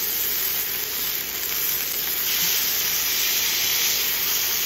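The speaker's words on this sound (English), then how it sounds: "you can hear how this is like sizzling" Loud, continuous sizzling and hissing from butterflied chicken frying in a hot pan, steady throughout with no voices.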